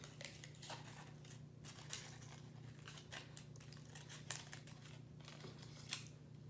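Scissors snipping through a paper cupcake liner, a steady series of soft crisp cuts and crinkles over a constant low hum, quiet and close, with no talking.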